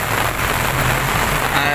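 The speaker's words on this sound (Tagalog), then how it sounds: "Sobrang lakas ng ulan guys" Heavy typhoon rain pours steadily outdoors, a loud, dense, continuous roar of drops on surfaces with no break.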